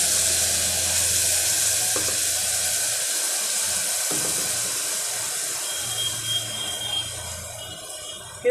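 Tomato and green masala paste of fresh coconut, garlic, ginger and coriander going into a mutton trotters gravy tempering, giving a steady close sizzle and frying hiss throughout with faint stirring clinks, no talk.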